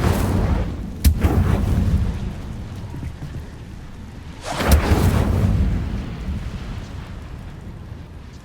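Two sharp Incendio fire spell blasts in a Harry Potter parody, several seconds apart, each hitting hard and trailing off into a long rumbling decay, heard alone with no talking.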